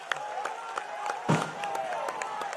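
Dense crowd applause with scattered cheers and whistles at a BJP Tamil Nadu political rally, steady and fairly loud, with a voice briefly rising above the clapping.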